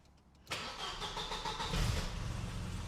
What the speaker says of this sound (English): let's start it up and hear all of the good 8-valve noises